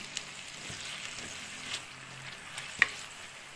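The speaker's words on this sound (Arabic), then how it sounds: "الطاجين هو كيتقلى، البصلة مع اللحم كيتقلاو" Onion and meat frying in a tagine, a faint soft sizzle with a few light clicks and one sharper tap of a utensil, quiet and close, no talking.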